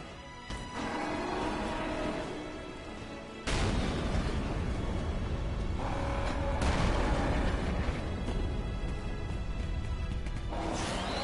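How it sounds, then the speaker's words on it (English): Heavy, loud bursts of missile fire from an enemy in the video game Stellar Blade, a dense sustained barrage with sudden booming onsets and no talking. "That big thing's still shooting giant loud missiles out."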